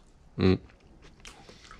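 A single loud crunchy bite into Cantonese fried rice, close to the mouth, followed by quieter chewing sounds.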